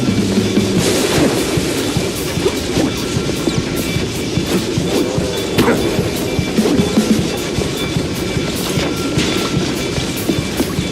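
A train rattles past in the Mouse: P.I. for Hire video game, loud steady clickety-clack of wheels and rumbling carriages with metallic clanks throughout, no talking.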